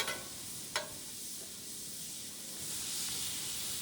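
Shrimp hit hot oil on a Blackstone flat-top griddle and sizzle in a steady, close hiss. A single sharp click comes early, and the sizzle swells slightly toward the end.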